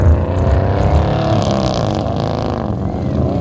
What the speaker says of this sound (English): These alloy motors sound on song when they're going.